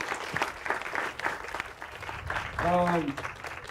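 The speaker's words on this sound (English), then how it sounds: "So kudos and applause to you." Crowd at a street march rally applauding and cheering outdoors, scattered clapping mixed with voices and a brief shout or whistle near the end, moderately loud.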